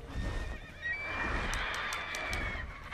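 A horse whinnies in The Witcher 3: Wild Hunt, a loud drawn-out neigh with trailing high calls, over a dense in-game ambience of hoofbeats and background noise.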